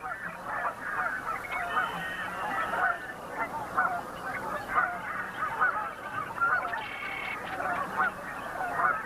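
Sandhill cranes in a North American marsh give repeated rolling, trumpeting calls in overlapping bursts, moderately near, with a voice narrating beneath.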